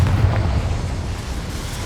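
The Confringo blasting spell detonates in Hogwarts Legacy as a loud, rumbling explosion that decays over about two seconds.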